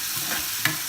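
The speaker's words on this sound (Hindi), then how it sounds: "हमारे प्याज अब भून चुके हैं, अब हम इसमें डाल देंगे टमाटर" Onions frying in a pan with tomatoes added, a steady sizzle broken by a couple of quick scraping stirs, close and alone without talk.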